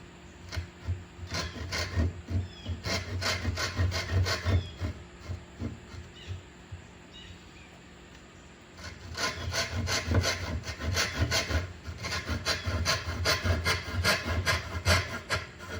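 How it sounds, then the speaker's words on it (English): A hand saw cutting a wooden tenon down to the shoulder, rhythmic rasping back-and-forth strokes close by, pausing briefly midway before resuming at a steady pace. "Saw down to the shoulder, just like that."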